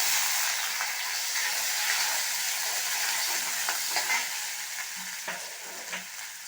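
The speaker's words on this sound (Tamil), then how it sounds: "இப்போது சோம்பு பொரிஞ்சதும் நம்ம கட் பண்ணி வச்ச ஆனியனை சேர்த்துடலாம்." Onions crackle and sizzle in a pan of hot oil with fennel seeds, a bright continuous frying hiss with occasional soft stirring scrapes and pops toward the end.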